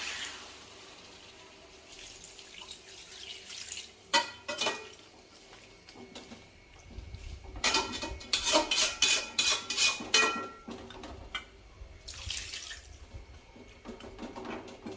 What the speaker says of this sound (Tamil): வேகிற அளவுக்கு நம்ம தண்ணி ஊற்றிக்கலாம்.